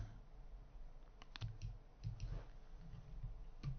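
Quiet, scattered clicks of keys being tapped on a keyboard, irregular and close, with faint room hum underneath.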